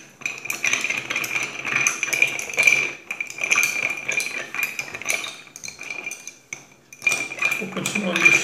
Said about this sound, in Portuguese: mexendo e vou fazer movimentos de baixo para cima para o açúcar não ficar no fundo do copo.